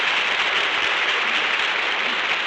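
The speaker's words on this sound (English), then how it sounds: "That applause goes from coast to coast." Studio audience of a radio drama broadcast applauding, a dense, steady wash of clapping that stays loud and even from start to finish with no voices over it.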